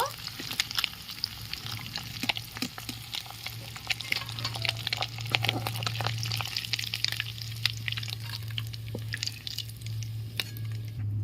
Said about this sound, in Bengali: বাদবাকি মাছগুলো ভেজে নেবো